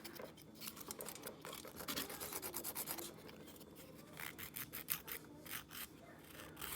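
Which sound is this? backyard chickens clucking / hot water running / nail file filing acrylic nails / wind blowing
nail file filing acrylic nails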